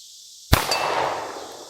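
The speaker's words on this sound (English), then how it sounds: "I am about 40 yards shooting that 12-inch plate." A bullet from an S&W M&P Shield Plus handgun, fired over iron sights, strikes a 12-inch steel plate 40 yards away. One sharp metallic clang rings out, then its ring decays slowly against quiet outdoor background noise.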